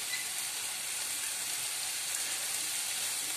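Ginger garlic paste and chopped tomato sizzle in hot oil in a pan for a restaurant-style mushroom gravy, making a constant, even hiss with fine crackling and no pauses.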